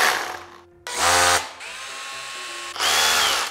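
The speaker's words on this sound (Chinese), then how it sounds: "就叫锤钻。" Hammer drills run in short loud bursts, each whirring and rattling with a buzzing pitch, separated by brief pauses as different tools are started one after another.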